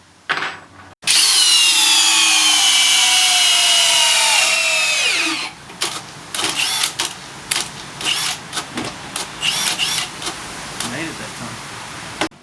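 Cordless hammer drills driving big screws, DeWalt 18V, HiKoki 36V and Makita 40V among them: a long high-pitched motor whine that slows and drops, then a run of short drill bursts and clicks.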